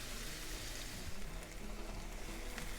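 A spicy bottle gourd side dish sautés in a pan, a continuous close crackling sizzle with a low background hum, steady throughout and without talk.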